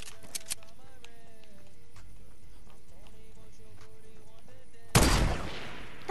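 Gunfire in Fortnite during the Star Wars Christmas update: a single loud, sharp burst of shots breaks in near the end, over quieter in-game music and ambience.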